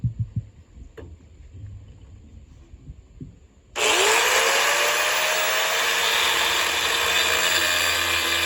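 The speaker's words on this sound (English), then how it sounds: "we're just going to cut it off with about the same amount of material left on this side" A power tool, likely a cut-off wheel or grinder, cuts excess metal from a wiper conversion bracket for an early Ford Bronco, starting abruptly after quiet handling noises and then running loud and steady with a high whine to the end.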